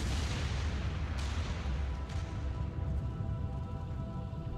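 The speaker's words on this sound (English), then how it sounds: "The biggest explosion of all time." Rumbling explosion of a comet impact on Earth, a dense, sustained low roar with a couple of sharper cracks layered in, loud and continuous throughout.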